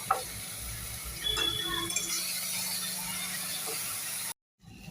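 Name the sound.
frying meat with cumin powder and grated spices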